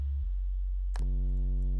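A deep, steady synth sub bass tone holds under a low drone, shifting in character about halfway through as a brighter harmonic layer joins.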